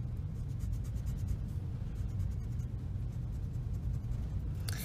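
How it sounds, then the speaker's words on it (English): A pencil eraser rubs steadily back and forth across paper to clear marks from a two-point perspective drawing, a continuous close scratchy friction that runs without pause and ends in a brief brighter scrape. "I would erase in between there."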